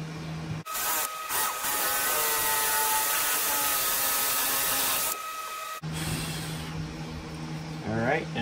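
A power drill bores a second hole through knife handle scales mounted on a farrier's rasp blade with a pin holding them steady, a steady whirring grind broken by two brief pauses before the motor restarts.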